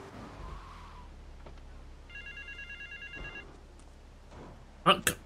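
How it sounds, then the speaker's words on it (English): A telephone rings in Grand Theft Auto 3, a faint electronic trill in a short repeating burst amid quiet street ambience, with a few louder clattering hits near the end. "Answer the phone!"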